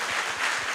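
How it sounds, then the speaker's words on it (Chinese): A church congregation claps together during a worship service, a brief, fairly soft patter of many hands heard at a distance. "把掌声荣耀归给神"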